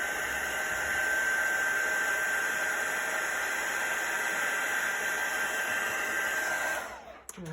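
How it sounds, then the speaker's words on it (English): A heat gun melting embossing powder on a handmade card, a loud steady whooshing blower with a high whine held for about seven seconds before it cuts off. "I'm just holding that heat gun still, As soon as I see that embossing powder start to melt and change"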